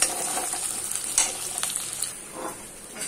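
Onions frying in a pan in a home kitchen, a soft continuous sizzle with occasional stirring scrapes and light clinks, no voices.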